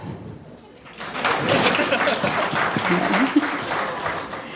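A television comedy show audience breaks into steady applause after a moment of quiet, clapping and cheering continuing throughout, with some voices and laughter mixed in.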